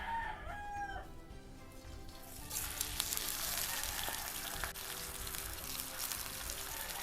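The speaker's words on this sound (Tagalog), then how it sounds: "Second is you need to fry this ham." Ham fries in oil in a pan. A rooster crows faintly in the background first, then a loud, continuous crackling sizzle starts and holds steady to the end.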